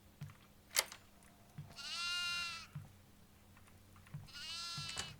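A goat in the horror video game Devour lets out two drawn-out, quavering bleats, loud and close, separated by dull thuds and footsteps.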